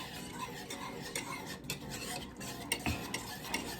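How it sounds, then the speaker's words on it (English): Heavy cream being whisked into a sauce in a pan while making a cheesy scallop ravioli sauce, a steady close scraping and stirring with light clinks of the whisk against the metal. "we want to keep whisking this until it becomes thick"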